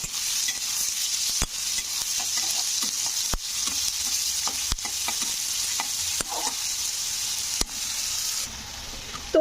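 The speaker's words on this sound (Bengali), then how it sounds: "পেঁয়াজটাকে একটু হালকা ব্রাউন করে ভেজে নেবো" Medium onions frying in oil until light brown make a continuous close sizzle, broken by regular sharp scrapes and taps of a spatula stirring the pan.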